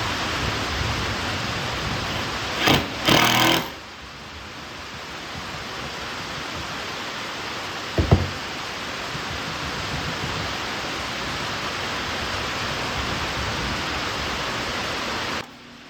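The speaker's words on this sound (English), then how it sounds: "This is my plunge router." A plunge router with a brass guide collar cuts a juice groove into a wooden cutting board along a jig. It makes a loud, steady, hissing roar that runs the whole time, with a couple of brief bumps early on.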